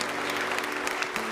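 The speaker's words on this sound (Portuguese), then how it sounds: "Agora dê uma salva de palmas para nosso Senhor Jesus Cristo." Congregation clapping at a church seminar on the Holy Spirit, a brief, even burst of applause from many hands at moderate level, sustained for a moment with no break.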